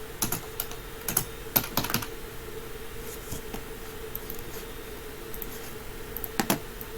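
Computer keyboard keys clatter in uneven bursts of quick taps with short pauses between, close and fairly quiet, during PowerShell scripting work with no talking.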